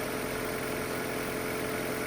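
A Toyota Prius engine idles at a traffic light with a steady, close, uneven rattling drone and no speech.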